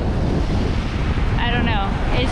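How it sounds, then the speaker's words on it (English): Strong gusting wind roars across the microphone at a waterside spot with surf and open water, a steady loud rumble throughout, with a brief faint whistling tone partway through. "it's just so windy"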